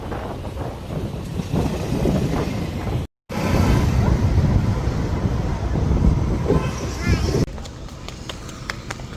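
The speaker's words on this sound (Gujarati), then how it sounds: "જો પવન કેવો આવે છે" Gusty evening wind buffets outdoors, a loud rumbling roar against the microphone that rises and falls, with people talking over it.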